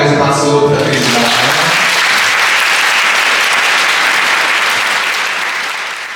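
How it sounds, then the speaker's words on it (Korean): Wedding guests at a Grand Convention Center hall burst into loud, close applause just as a sung or held musical note ends, the clapping continuing steadily for several seconds before easing off. "박수 부탁드립니다"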